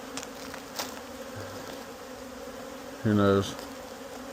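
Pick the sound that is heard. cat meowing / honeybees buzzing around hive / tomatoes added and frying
honeybees buzzing around hive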